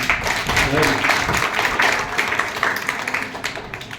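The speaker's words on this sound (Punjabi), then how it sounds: "ਇੱਕ ਵਾਰ ਤੁਸੀਂ ਪਹਿਲਾਂ ਆਪਣੇ ਵਾਸਤੇ ਇੱਕ ਤਾੜੀ ਮਾਰੋ ਪਲੀਜ਼" An audience of students claps at an education talk, a dense, steady patter of many hands mixed with voices, fading slightly toward the end.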